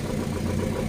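Aprilia motorcycle engine idling after a DiTech derestriction, a steady low rumble held evenly and fairly close throughout the short moment, with no voices.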